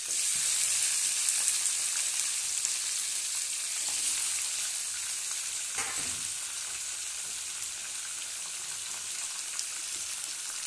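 Food frying with garlic and salt in a pan for bisi bele bath, a soft continuous hiss with occasional faint stirring scrapes, fairly quiet and steady throughout, no talking.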